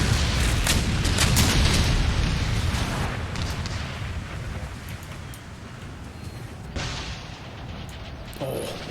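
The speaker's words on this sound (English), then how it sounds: "Let's get those guns firing" Massed cannon fire in the video game Empire: Total War, a 13 Colonies battle, rolls as continuous loud booming and rumbling, heaviest at the start and flaring again near the end, with no voices in the clip.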